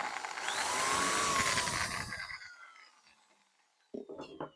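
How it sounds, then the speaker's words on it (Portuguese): Electric drill with a bit spins up to mark a spot in wood while building a wooden gate, a brief rising whine that winds down over a couple of seconds, followed by faint handling clatter. "faço uma marcaçãozinha com a furadeira"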